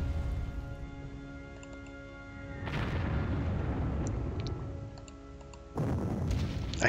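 Bombing in a WWII strategy game, Panzer Campaigns-style assault on Eben Emael: deep booming explosions rumble in, with two louder blasts near the middle and end over a low sustained background.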